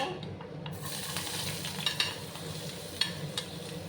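Potatoes and carrots hit hot oil in a wok on a lowered gas flame, giving a steady close sizzle and crackle with a few sharp spatters and light utensil taps.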